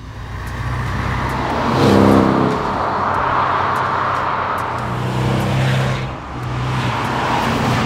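A Porsche 718 Cayman S, 2016, with a sporty four-cylinder engine, roars up through its revs close by. The engine note swells loud, eases slightly, then builds again before a brief dip and renewed pull.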